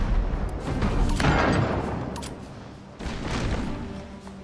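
Heavy booming blasts from a ship's multiple cannons in the video game Abandon Ship roll in dense bursts, loud and continuous, in a close barrage with no voices.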